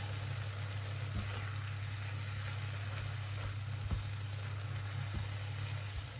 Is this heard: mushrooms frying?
yes